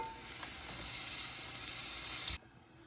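Butter sizzles steadily in a hot, oiled pan beside an NY strip steak, a constant hiss that stops abruptly near the end.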